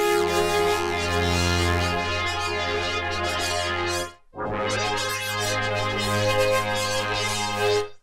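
Sustained Access Virus A synth pad with chorus, a dark cinematic psy texture holding steady harmonic tones, briefly cutting out near the middle before swelling back in, loud and alone.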